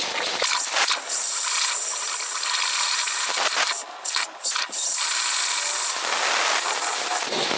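Short bursts of compressed air blown through a transmission cooler to flush out oil, loud hissing rushes broken by a few brief pauses, close and dominant with no talk.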